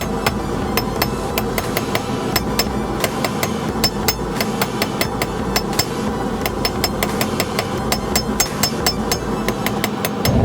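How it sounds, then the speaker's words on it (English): Hot steel is forged into a taper on an anvil with a steady run of sharp, ringing hammer blows at a quick even rhythm, loud and close, over a low background hum from a forge. "Lean it up diagonally against the anvil and strike some blows."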